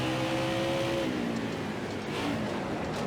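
A stock car drifting through a turn on a dirt track in the racing video game NASCAR Heat 5, a continuous engine drone that drops in pitch partway through beneath a broad rushing roar.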